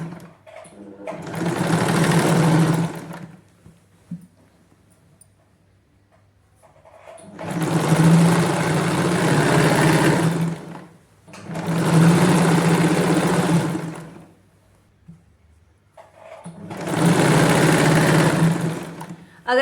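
A sewing machine stitches the seams of palazzo pants in four loud, steady bursts of whirring, close up, separated by short quiet pauses.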